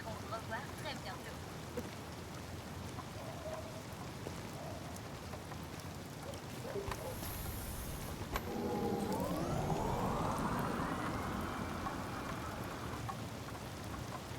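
Steady rain falls in the video game Detroit: Become Human, a constant soft patter, with a vehicle-like tonal sweep rising through the downpour partway through.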